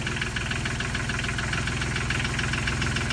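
A sailboat's engine idling roughly and shaking, with a steady, loud, close rumble and a rapid knocking pulse that runs throughout with no talk over it.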